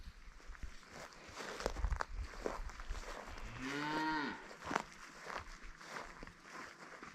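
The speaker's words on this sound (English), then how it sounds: "You're a good cow." A cow gives one low, drawn-out moo midway, with shuffling hoofsteps and rustling before and after in a quiet barn or field setting.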